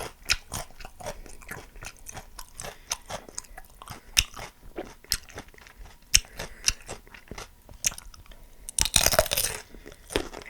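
Crisp, close bites and chewing of cucumber with mayonnaise, with repeated crunches in an irregular rhythm and a louder, denser burst of crunching near the end, without talk.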